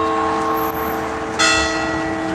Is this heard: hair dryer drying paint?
no